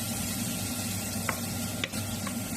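Pieces of pork fat (salo) beginning to fry on an apartment stovetop, a steady soft sizzle with a couple of faint clicks, no speech.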